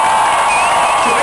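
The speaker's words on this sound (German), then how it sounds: "Applaus dafür!" A concert crowd at a show cheers and whoops loudly, with a dense, close roar, some whistling and mixed voices carrying through the brief burst.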